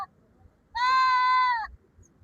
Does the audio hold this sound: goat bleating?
yes